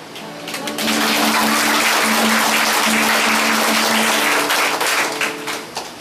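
Loud applause from a congregation at a religious first profession ceremony swells in after a brief quiet start, holding as a thick, roaring wash of hands over a faint steady tone before thinning out.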